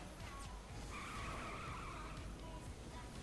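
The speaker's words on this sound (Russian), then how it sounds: "Дрифт прям царский." Tires squeal through a drift in Saints Row: The Third, a whining skid rising and holding over a constant engine drone and road noise, fairly faint overall.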